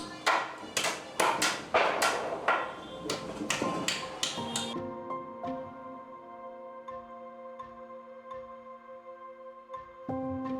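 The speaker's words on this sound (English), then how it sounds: "grips his hammer firmly and starts hitting the nails one by one." A hammer strikes nails on a Bangladesh construction site in a quick series of sharp, ringing blows, then stops, leaving tones that hum and fade.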